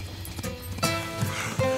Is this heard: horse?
yes